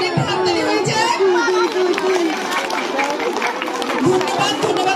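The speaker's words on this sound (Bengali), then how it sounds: "বড় মেয়েরা পড়াশোনার জন্য একটু হাততালি হয়ে যায়" Applause for two girls at a family cake-cutting gathering: a dense patter of clapping mixed with lively chatter and raised voices, loud and continuous for the whole stretch.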